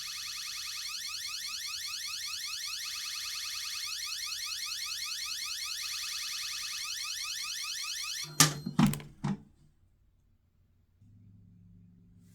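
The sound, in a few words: alarm of a Vaultek MR Series safe going off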